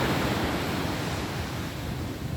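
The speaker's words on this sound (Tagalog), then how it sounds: "Galit na galit yung alon." Loud, continuous roar of surf at Sunrise Beach Resort, Aringay, with broadband wash and steady low rumble, no distinct pauses between breaking waves.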